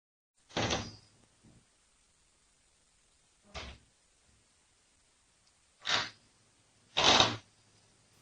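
A door latch on a door in a purported ghost-video setting clicks shut and releases again, heard as a few short, separate knocks and clunks with quiet gaps between them, close and alone without talk.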